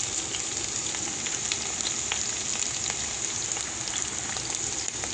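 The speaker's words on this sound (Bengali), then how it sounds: "এখন পেঁয়াজের মধ্যে কাঁচামরিচ দিয়ে দিব" Green chilies are tossed into onions frying in a pan, sending up a dense, steady, close sizzle that crackles evenly like hard rain for the whole stretch.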